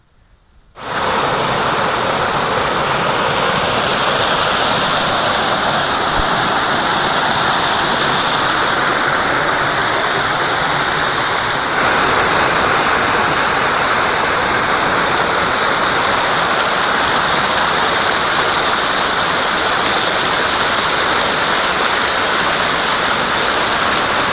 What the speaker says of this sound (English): Man, this is crazy, this water flow.